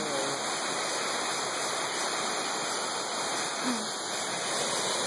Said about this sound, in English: Yay, waterfall, baby, we found it.